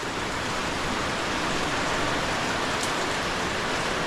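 Steady, dense rain pours down with wind in an even, unbroken hiss that stays loud from start to finish.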